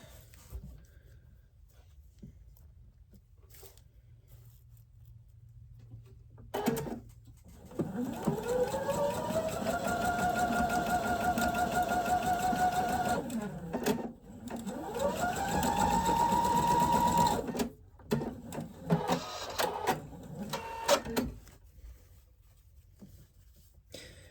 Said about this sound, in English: I'm actually going to sew this to this first. And then I'll sew it to the top.